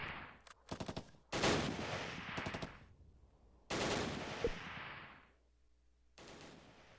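A flak cannon fires in the video game Close Combat, with rapid bursts of sharp automatic reports separated by short pauses and heavier booming blasts, close and loud with no voices.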